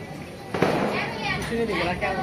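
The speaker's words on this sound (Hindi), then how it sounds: "देखो वो फूट रहे हैं पटाखे पटाखे" Firecrackers burst outdoors in celebration of India's cricket win: a sharp crack stands out over a dense wash of distant popping, crowd noise and wind.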